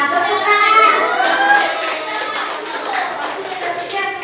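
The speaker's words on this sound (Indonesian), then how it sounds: "Wah, tepuk tangan." Classroom applause breaks out among children during a lesson, a dense burst of clapping under a teacher's voice and children's chatter, continuing fairly close and steady for a few seconds.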